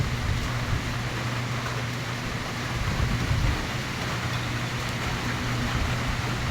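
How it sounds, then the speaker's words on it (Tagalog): Strong typhoon wind roars through bamboo and garden plants in Quezon City, a constant, dense rushing noise with low rumbling gusts that holds steady throughout, with no voices. "ang hangin ko ay napakalakas sumasayaw ang mga halaman"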